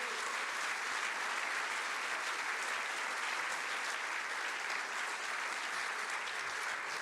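A church congregation applauds steadily, a dense, even wash of many hands clapping at moderate distance for the full stretch with no voices standing out.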